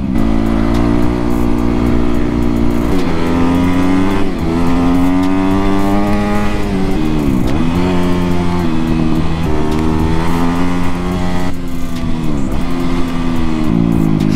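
A motorcycle rides along a dirt road, its engine close and loud throughout, droning steadily while the revs repeatedly climb and drop with throttle changes.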